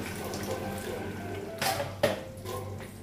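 Water pours onto flowers from a container or tap in a home setting, a short, moderately faint running splash with a couple of brief louder spurts near the end.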